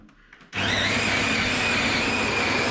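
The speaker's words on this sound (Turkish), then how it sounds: "Şuradan da bir kahve basayım ya" After a moment of quiet, a coffee machine switches on abruptly with a loud, steady mechanical whir and hum that continues without pause.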